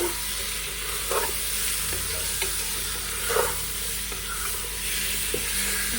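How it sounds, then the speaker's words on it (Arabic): Cleaned chicken pieces fry in a pan with onion and tomato for a Palestinian stuffed-leaves dish, sizzling loudly and continuously with occasional scrapes and clinks of stirring. "بحط الدجاج تبعي هيو، بعد اكيد ما نظفته بقلب شوي"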